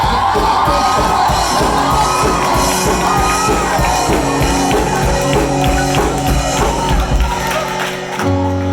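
Church congregation cheering and shouting in acclaim during a worship service, a loud, dense crowd roar with whoops over steady music that drops away near the end.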